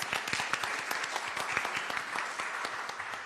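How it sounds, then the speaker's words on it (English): Audience applause at a political candidate forum, a brisk burst of many hands clapping, fairly close and continuous throughout. "Can we have a round of applause for the League of Women Voters?"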